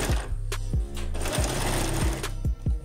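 A sewing machine stitches fabric along the full length of a costume hood, its motor running in quick, steady bursts with short pauses between stitching runs, close and loud with no voices.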